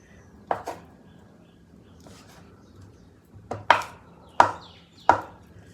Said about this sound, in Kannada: ಪನ್ನೀರ್ನ ಕಟ್ ಮಾಡ್ಕೊಳ್ತಿದ್ದೀನಿ